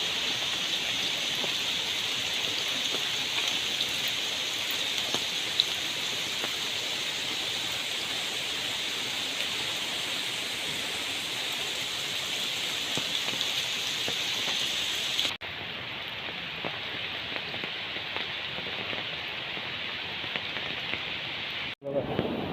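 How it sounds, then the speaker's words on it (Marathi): Steady rain falling on a forest in the Konkan countryside after a whole night of downpour, a dense, even hiss that holds for about fifteen seconds, then drops sharply to a quieter wash. "कसला काल रात्रीपासून पाऊस आहे, कंटिन्यू पाऊस आहे."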